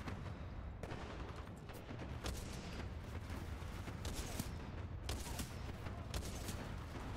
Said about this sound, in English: Are those good guys I'm shooting?